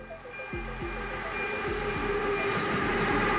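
A passenger train runs steadily on rails, its wheels clacking over rail joints in an irregular rhythm beneath a continuous rumble and faint high whine, close and fairly loud throughout.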